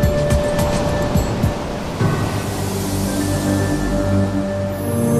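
Ocean surf on a big swell, a continuous rush of breaking waves with a steady broadband roar and no voices.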